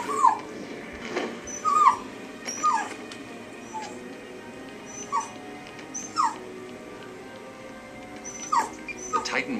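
A pet puppy lets out scattered whimpers and sharp little yips, spaced a second or two apart, over a faint low background with a voice murmuring in places.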